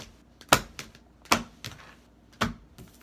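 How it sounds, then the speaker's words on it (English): A deck of tarot cards shuffled briskly by hand, giving four sharp riffling snaps spaced irregularly over a few seconds, close and fairly quiet with soft rustling between. "I'm just going to give them a quick shuffle on camera for the viewers"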